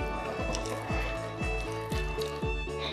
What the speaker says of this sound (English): So now we have to mix it until it's perfectly put together.